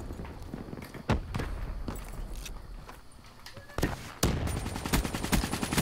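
Gunfire in the Black Ops 3 beta, scattered sharp shots and short bursts over a busy game background, with louder cracks around the first second and again past four seconds.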